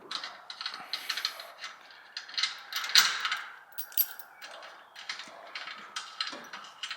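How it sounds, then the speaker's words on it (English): Metallic clicking, rattling and scraping as bolts are pulled out during setup of a DMG Mori lathe in a machine shop, a busy irregular run of close, moderately loud mechanical taps with no talking. "let me pull these bolts out"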